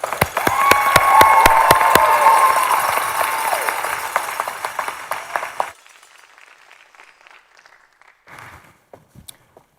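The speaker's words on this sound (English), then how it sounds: "One more round of applause for all of our graduates" Graduates at a spring law school commencement receive a round of applause from the crowd, dense and loud clapping with a few cheers that suddenly drops away, leaving faint scattered claps and stray sounds.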